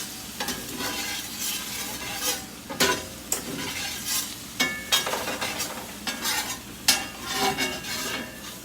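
Onions frying in a pan for a French onion casserole while a utensil stirs them, giving a continuous close sizzle broken by repeated scraping strokes against the pan surface.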